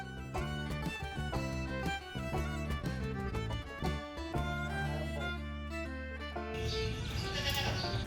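Goats near a goat pen bleat repeatedly in loud, wavering, overlapping calls that carry through most of the stretch, followed at the end by a noisier, broader rustle.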